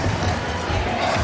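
A large esports crowd in a Paris arena cheers and roars continuously through a Counter-Strike match on Nuke, a dense, steady wall of voices.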